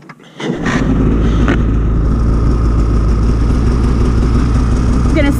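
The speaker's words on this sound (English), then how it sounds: "So I'm going to start my snowmobile here." A snowmobile engine cranks and catches within the first half-second, then settles into a loud, steady close-up idle with a rough mechanical rattle.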